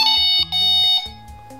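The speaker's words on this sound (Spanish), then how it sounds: "Con la alarma apagada lo que voy a hacer es encenderlo pulsando estos dos botones" Delkim Txi-D fishing bite alarm sounding a short series of loud electronic beeps as its anti-theft mode is activated, close and alone with no talk.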